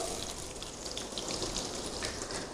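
Chopped onions fry in hot oil with cumin seeds for spiced masala liver, giving a dense, steady crackling sizzle that stays loud and even throughout, with no voices.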